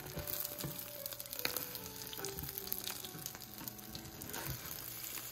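Steady, faint sizzling of egg frying in a pan, with occasional small pops and crackles throughout.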